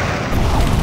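Enemy jet blowing up in Air Supremacy 2, a short deep boom that swells and rumbles loudly and briefly.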